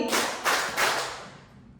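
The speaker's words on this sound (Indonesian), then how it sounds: "Tepuk tangan 3 kali." Three quick hand claps in a classroom exercise, evenly spaced and close, each a sharp burst fading into room reverberation, with no talking.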